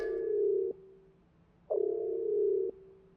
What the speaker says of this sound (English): You'll hear that sound cue, and you'll have a message saying, attention, station alert level is now blue.